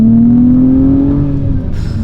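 Acura TLX Type S sports sedan engine pulling hard under acceleration, a loud steady rising drone with a climbing pitch, joined by a brighter whoosh near the end.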